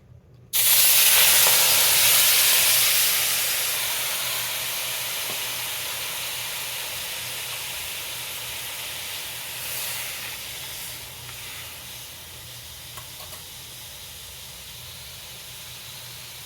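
Almonds frying in a pan for a bottle gourd dish, a loud burst of hissing sizzle that starts abruptly then settles into a steady, slightly fading sputter with small crackles, no voices.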